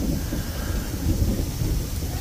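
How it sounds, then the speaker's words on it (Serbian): Thunder rumbles low and heavy through a rainstorm, with steady rain hiss over it and no speech. "Grmi."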